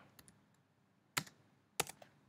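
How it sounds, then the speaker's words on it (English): Keys on a computer keyboard click in a few sparse, sharp taps while typing, quiet between the strokes and close by. "I'm going to type this in quickly"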